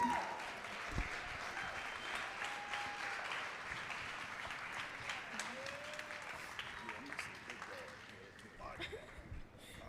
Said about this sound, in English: I do want tonight's joyful guests to come to the stage so we can give them a round of applause